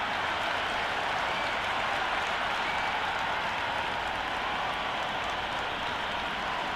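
A packed cricket stadium crowd at an India versus South Africa T20 match roars steadily, a dense, unbroken wash of cheering and clapping that holds at a constant level with no individual voices standing out.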